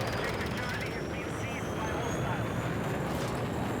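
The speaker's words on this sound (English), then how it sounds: "Fly away with full afterburner." Steady roaring rush of a fighter jet on full afterburner in the Battlefield 6 video game, a continuous loud broadband engine roar with faint game effects underneath.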